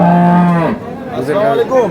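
A dairy cow at the Ambari cattle market in Dinajpur lets out one loud, close moo that fades after under a second, followed by softer market noise and faint voices.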